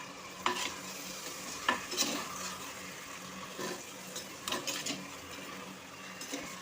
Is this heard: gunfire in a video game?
no